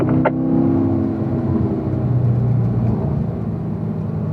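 Corvette on the Spring Mountain race track during a racing school session, a loud, steady in-car engine rumble and whir that drops in pitch as the driver brakes and downshifts.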